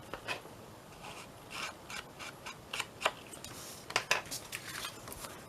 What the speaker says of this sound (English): Let's just cut, did a little notch out of there.